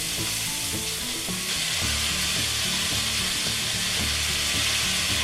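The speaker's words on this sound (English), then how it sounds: "once your beef's in the pan, you're going to want to stir this continually until the beef has gone brown" Minced beef for a keto lasagna fries in a pan with a loud, dense, continuous sizzle, while a utensil stirs and pushes it around in repeated scraping strokes. Nobody speaks.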